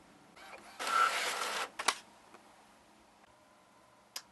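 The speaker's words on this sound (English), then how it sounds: "And now I'm going to run it through my printer." An inkjet-style printer running a fabric quilt label: a steady mechanical whir of about a second, then a couple of short clicks and clunks, with a final faint click after a quiet pause.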